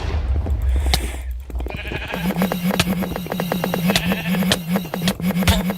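Sheep in the Minecraft video game bleat loudly and repeatedly in a quick rhythmic string, joined by clicking game effects, with no talking.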